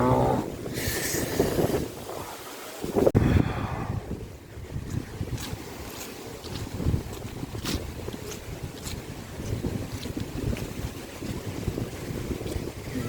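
A boat engine drones steadily amid gusty wind buffeting the microphone, with a brief louder rush near the start.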